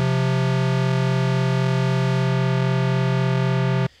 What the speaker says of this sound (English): if we start to add distortion onto an interval like the perfect 4th